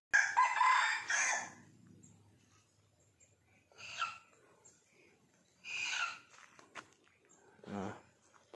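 A decoy rooster set out at a jungle fowl snare crows several times, the first call loud and close, later crows spaced out at intervals with quieter clucks and shuffling between, no talking.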